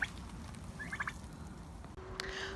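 Turkeys being herded into their run gobble in short, quick bursts against outdoor background noise, a few rattling calls at moderate distance, with a brief thump partway through.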